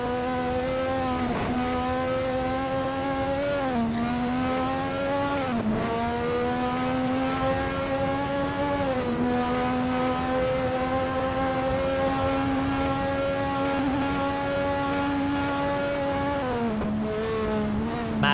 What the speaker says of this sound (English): Maxed out revs. That's what you want to hear from this engine